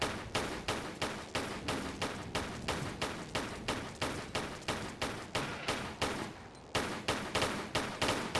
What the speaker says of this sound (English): Oh, come on, you're shooting at the wrong one, Lara.